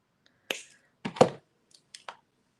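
Jewelry wire is snipped off with cutters: a few crisp, close, isolated clicks and snaps in otherwise quiet surroundings.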